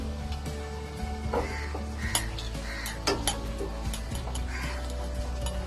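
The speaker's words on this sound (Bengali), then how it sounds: "আমি এবার ঢাকাটা খুলবো।" A metal lid is lifted off a cooking pot of simmering star fruit chutney, giving a few sharp clinks and knocks over a quiet kitchen background.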